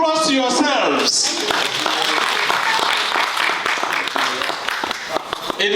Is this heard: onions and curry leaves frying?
no